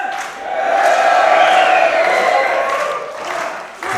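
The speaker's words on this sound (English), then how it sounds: "The crowd are firmly behind Charlie Sterling" A wrestling crowd roars and cheers as the bell starts a Brave New World 2025 match between Kid Lykos II and Charlie Sterling, a loud sustained swell of voices and whoops that dips briefly near the end.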